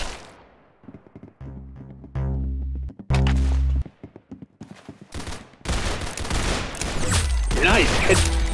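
Rapid gunfire bursts and single thudding shots from the Roblox shooter game Arsenal, loud and close, starting in isolated pops and building into a dense, continuous barrage with game effects toward the end.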